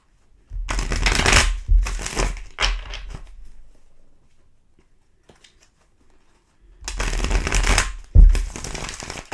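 Tarot cards being shuffled in two bursts of quick riffling and slapping, close and loud, with a quiet pause between them.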